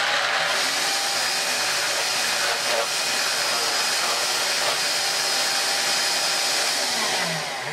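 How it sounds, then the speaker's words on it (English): A Vax Air cordless vacuum cleaner with a stiff brush roll runs continuously, producing a loud, even motor whine and airflow hiss close by with no break and no talk. "really, really stiff brush roll there"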